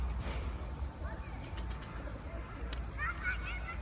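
A pigeon coos softly a few times nearby, with faint chirps and people talking in the background.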